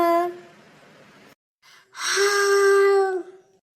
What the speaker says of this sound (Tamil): சார், எனக்கு கொட்டாவி வந்துருச்சு சார்.